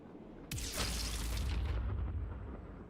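A grenadier's explosive shot in the video game Heart of the Machine: a sudden loud boom with a bright, crackling burst that rolls on and slowly decays, with no talking.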